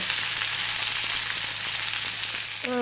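Sliced onions sizzling in hot oil in a pan while cooking egg curry, a steady bright crackle throughout with a brief scrape of stirring near the end.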